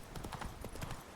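Roach the horse's hooves clip-clopping in The Witcher 3, a quick, even run of close, crisp hoofbeats.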